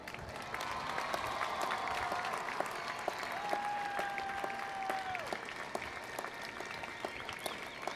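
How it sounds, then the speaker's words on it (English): A graduation ceremony audience at the Rongxiang Xu College of Health and Human Services applauds the graduates' parents, a dense, continuous field of clapping from a large crowd, with a brief whistle-like tone rising above it midway. "And folks, let's applaud them"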